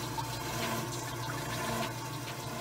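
Water trickles and drips inside a Hoshizaki ice machine that is not making ice, a faint, continuous wet splashing over a low mechanical hum.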